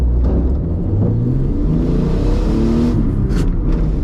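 A cheap car fitted with no modifications accelerates hard from 0 to 100, engine rising in pitch through the gears with a loud, continuous revving rumble heard from inside the cabin.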